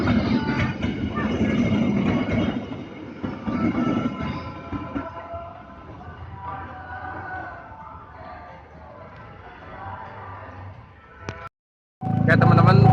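The Argo Parahyangan train, hauling a panoramic carriage, rolls past at close range with a steady rumble and rhythmic wheel clatter that gradually fades. Someone speaks over it, then a loud burst of noise cuts in at the end.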